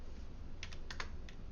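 Fingers tap a computer keyboard while an IP address is entered during a switch and router network lab, a quick burst of a few distinct, close keystrokes over a quiet room background.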